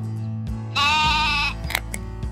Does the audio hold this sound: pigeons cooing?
no